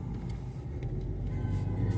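A large car moves through slow street traffic on a wintry Saturday afternoon, giving a low engine rumble at moderate distance that swells slightly toward the end.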